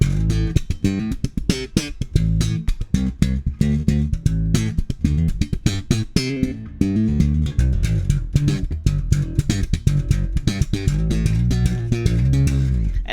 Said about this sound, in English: And that sound is the slap bass technique that our ears are most used to.